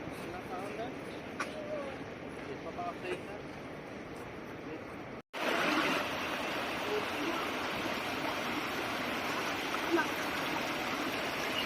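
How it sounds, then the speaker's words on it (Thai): Steady broadband rushing of a mountain waterfall in Norway, a constant roar that cuts out briefly and returns a bit louder, with a voice heard faintly beneath it. "นี่คือน้ำตกที่ไหลมาจากบนภูเขานะคะทุกคน"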